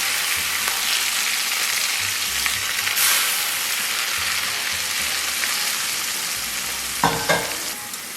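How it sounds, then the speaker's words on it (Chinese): Hot oil poured over chili powder, sesame and scallion segments sizzles continuously, a close hissing crackle with a few light clinks and a short clatter near the end, no talking. "咱们把烧热的油给它浇到里边。"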